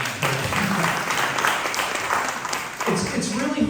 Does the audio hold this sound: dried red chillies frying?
no